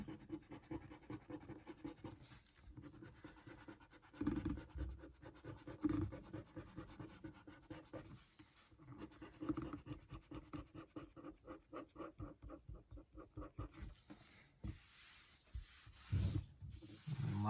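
A dry-cleaning eraser scrubs back and forth along the back spine of an Amazing Spider-Man 129 comic book, a close, steady run of soft rubbing and scratching strokes that continues throughout with no talking.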